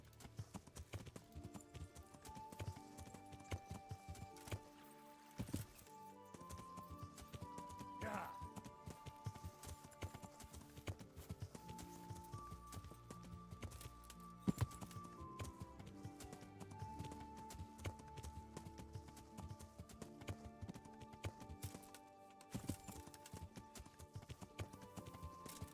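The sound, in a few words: horse galloping in a video game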